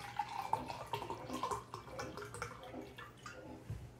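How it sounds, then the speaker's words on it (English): Water poured from a bottle into a cup, a steady trickling splash with small drips, close and fairly quiet, lasting a few seconds with no talking. "Let's pour the water in my cup."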